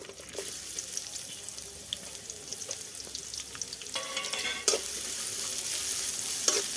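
Two large chopped onions fry in a pan for a Bengali prawn malai curry, a steady sizzle with stirring scrapes and a brief louder burst near the end.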